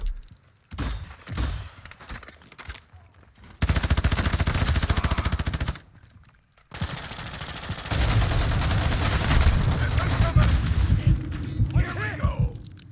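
Heavy video game gunfire fills the scene, dense machine-gun bursts and single shots with booming hits, loud and close, broken by a brief lull while someone shouts over the shooting.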